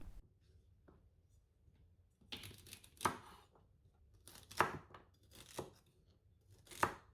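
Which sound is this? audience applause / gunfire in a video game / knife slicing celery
knife slicing celery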